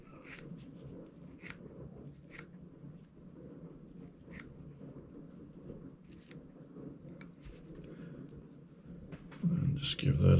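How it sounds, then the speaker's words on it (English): Small scissors trim bucktail hair tied onto a fishing jig for a baitfish pattern, giving a series of quiet, crisp snips spaced a second or so apart, with a louder rustle near the end. "And we're just going to trim this up a little bit."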